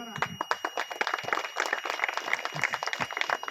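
An audience at a P.S.R. Group Ventures event breaks into sustained applause, many close, crisp hand claps layered into a busy, continuous ovation with faint crowd murmur beneath.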